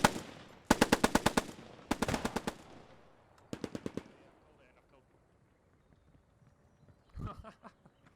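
Several bursts of close, loud automatic machine gun fire in the World War II shooter Post Scriptum, rapid rhythmic volleys separated by short pauses, followed by a fainter distant burst.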